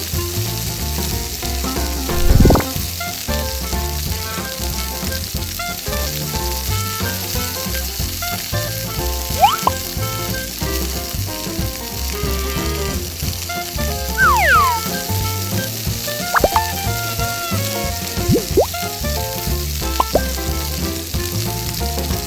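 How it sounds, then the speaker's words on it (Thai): Battered vegetables fry in hot oil during toy kitchen play, a steady, close sizzle and crackle running throughout with a few brief clatters and bright tones on top. Nobody speaks. "แล้วก็นำมาทอดในน้ำมันร้อน"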